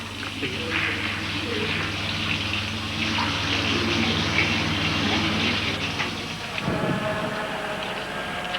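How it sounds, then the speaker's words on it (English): Water runs steadily from a tap during washing for wudu before prayer, a constant close splashing rush that shifts briefly near the end as hands move through the stream. "This is when we wash parts of our body to make it clean before we pray. The water's still a bit cold"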